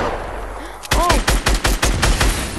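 Rapid bursts of gunfire from a weapon shooting open a loot llama in the Fortnite video game, about seven sharp shots in quick succession right after a short game chime, loud and close.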